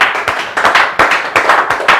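An audience at a direct selling training session claps loudly in sharp, rhythmic bursts of hand claps close to the microphone, the beats coming in quick repeated groups.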